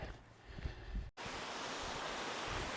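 A mountain stream flows under a bridge on the Dog Lake and Pipeline trail near Salt Lake City, a steady, even rush of water that continues alone after a brief break.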